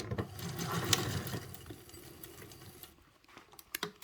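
A sewing machine runs a seam on a large foldable tote bag in a short burst of rapid mechanical whirring, then slows and stops, leaving faint clicks.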